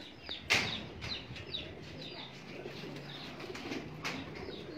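Pigeons coo softly in a loft, low murmuring calls repeating throughout, with a brief burst of wing flapping near the start and scattered faint chirps around them.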